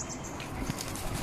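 Green-winged or blue-and-gold macaw flapping its wings in a short outdoor free flight in an urban area, a soft steady whooshing flutter lasting about a second, fairly faint and close, with no voices.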